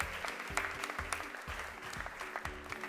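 Audience applause at a Ghanaian senior high school cooking competition welcoming a team, continuous clapping with distinct hand strikes over a low pulsing music beat.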